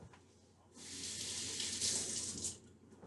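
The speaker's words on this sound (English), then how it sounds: "Got to rinse the shallots off the knife first." Tap water runs from a faucet for a few seconds as shallots are rinsed off a kitchen knife, a steady close hiss that swells in the middle and fades near the end.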